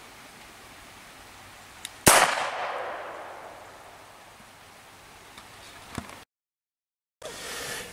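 A .22 blank cartridge fires a homemade bolt-action gun dog training dummy launcher: one sharp, loud bang with a ringing, slowly fading tail, then quiet background.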